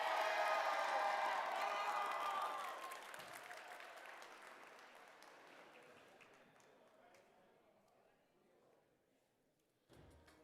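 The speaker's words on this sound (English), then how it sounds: "make some noise" A loud burst of crowd applause and cheering fills a FIRST Tech Challenge robotics qualifier arena in Washington, DC, then dies down over a few seconds into quieter scattered clapping and room noise, with voices audible.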